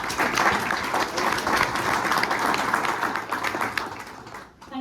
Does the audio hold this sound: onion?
no